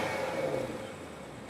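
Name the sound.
2023 BMW 760i xDrive engine and exhaust in sport mode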